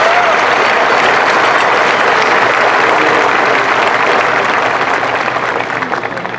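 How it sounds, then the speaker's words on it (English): Loud, dense audience applause at a high school graduation ceremony honoring teachers, a continuous wash of many hands clapping that tapers slightly near the end. "Please give these teachers a round of applause for their service to our students."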